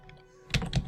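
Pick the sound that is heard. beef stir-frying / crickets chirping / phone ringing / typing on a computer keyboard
typing on a computer keyboard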